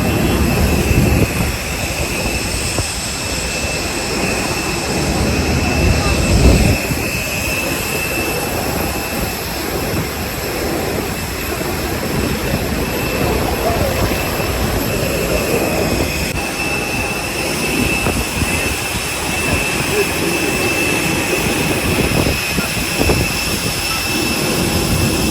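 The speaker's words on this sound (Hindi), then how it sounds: "ये जहाज़ के अंदर है भाई।" Steady broadband roar inside a Salam Air airliner cabin on a Doha to Muscat flight, a continuous engine and air rumble with faint high whine, constant and enveloping throughout.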